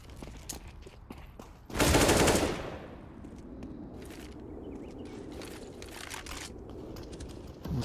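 Gunfire in Counter-Strike during a competitive match, with scattered sharp single shots and a loud burst of automatic fire, then quieter clicks and footsteps under low background noise.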